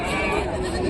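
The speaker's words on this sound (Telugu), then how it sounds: "ఈ మేక" At the Rajarampalli village livestock market, a goat gives a short, close bleat over a noisy crowd background with people talking nearby.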